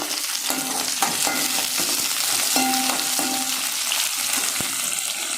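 Dried red chillies and curry leaves sauté in hot oil, giving a steady close sizzle broken by several rhythmic scraping stirs of a spatula, no voices.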